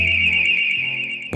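A Response 1 BizGuide monitored business security alarm blares a loud, steady high-pitched electronic tone with a low hum beneath, sounding continuously for over a second before abruptly stopping.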